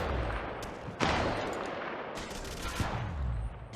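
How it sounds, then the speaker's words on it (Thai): Gunfire in Apex Legends Mobile, faint and fairly distant: a few sharp shots and short bursts over continuous game background noise, with a stronger report around the middle. "มีศัตรูอยู่ตรงนี้มีคนยิงมาที่ฉัน"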